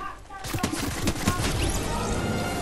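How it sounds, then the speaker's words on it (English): Gunfire in the Fortnite video game, where a pump shotgun is in use: loud, dense bursts of rapid shots and impacts that pile up and continue almost without pause throughout. "Wait, is someone shooting?"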